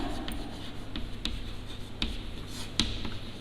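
Chalk or marker scratching across a classroom board while a name is written, a few quiet strokes and taps in steady succession over low room noise, no talking.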